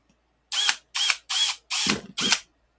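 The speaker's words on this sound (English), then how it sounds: "drill out your hole where you marked it." A power drill bores into a Polaris Ranger seat in five short, close bursts, each a sharp whirring pulse separated by brief pauses.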